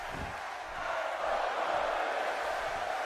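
Video game arena crowd in WWE 2K17 roars steadily throughout a wrestling match involving Stardust, a dense, continuous wash of cheering with no distinct voices standing out.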